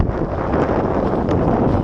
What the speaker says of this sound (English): It's been on and off windy